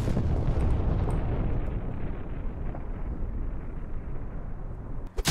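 A bomb goes off in the Henry Stickmin game as a loud, rumbling explosion that slowly fades into a long roar before ending in a sharp crackle.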